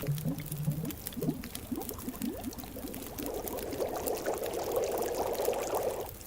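Water pouring and bubbling as coffee is made over a campfire in The Long Dark, a short trickle giving way to a steady, building boil with scattered pops, close and moderately loud with no talk.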